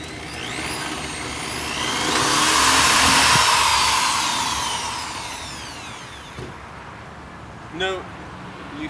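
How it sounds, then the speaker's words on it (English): A power drill whines loudly for several seconds as it drills out metal rivets holding a window regulator in a BMW E36 328is door, rising and then tapering off, followed by a few faint clinks. "we're just going to drill right through where the rivets are to remove this from the door"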